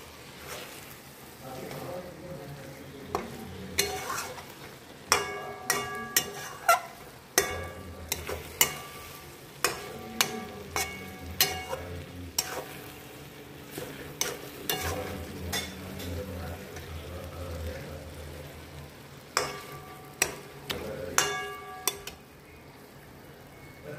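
A Bengali fish curry with beans, potato, peas, tomato and coriander simmers in a pan, giving a soft sizzle. A spoon scrapes and clinks against the pan in repeated sharp strokes.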